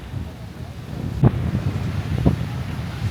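Wind buffets the microphone on a boat trip out from Brisbane to Tangalooma Island, a steady low rumble with two brief stronger gusts.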